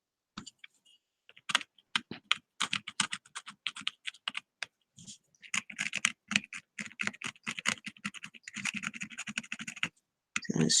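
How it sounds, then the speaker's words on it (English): Small tool scraping tiny burnt plastic bits off a wood-burned leather piece, a dense run of quick, dry scratchy strokes in irregular bursts, close and fairly quiet, with no talking. "Gonna scrape at that a little bit because burnt so many little tiny pieces of that plastic"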